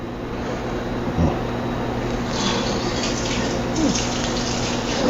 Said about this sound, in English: Apologies if y'all hear water in the background